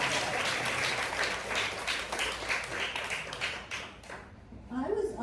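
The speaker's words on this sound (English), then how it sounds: "I need a round of applause for that." Audience applause at a Walt Whitman Birthplace Association event marking the poet laureate's passing, full and steady clapping that tapers briefly before swelling again, with a voice faintly present near the end.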